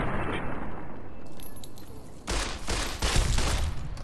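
Gunfire in the video game Fallout: New Vegas: a loud, dense volley of shots bursts in over a steady background hiss partway through, continuing in rapid overlapping cracks to the end.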